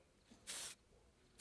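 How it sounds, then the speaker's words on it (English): Spray paint is sprayed onto hair in two short, quiet hissing bursts, the second cut off at the end, with near silence between them. "what we ended up doing was spray painting my hair instead"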